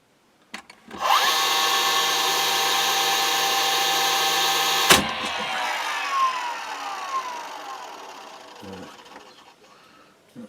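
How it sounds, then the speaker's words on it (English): A power tool drives 50mm brad pins into glued scrap wood for a wooden grave pot, a loud steady whir for about four seconds that cuts off sharply, followed by fainter handling noises. "glue and put some 50mm brad pins in to hold it together"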